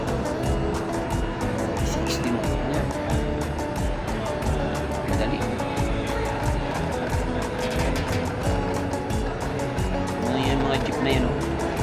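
City street traffic with jeepneys waiting for passengers makes a dense, continuous rumble of engines and passing vehicles, with a voice talking over it.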